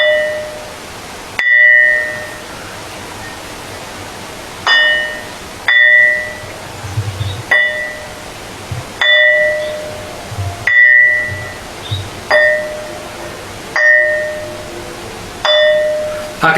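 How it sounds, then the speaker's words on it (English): A quartzite stone struck repeatedly by hand, about nine sharp strikes at irregular intervals, each ringing with a clear bell-like tone that decays over a second or so. "these stones, they have these beautiful harmonic frequencies that ring like a bell"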